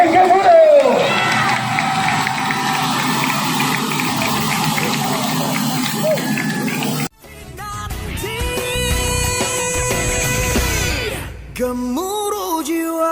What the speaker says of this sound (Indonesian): Berikan tepukan yang paling gemuruh.